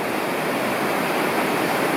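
Floodwater rushes loudly through the Arroyo Seco channel after Hurricane Hilary's heavy rain, a dense, continuous close roar of churning water with no voices.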